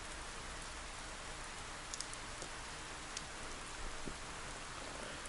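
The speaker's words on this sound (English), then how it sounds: "The rain won't let up." Steady, even rain pours down in a rainy Shibuya street scene from the video game 428: Shibuya Scramble, a continuous dense hiss with a few sharper drops tapping close by.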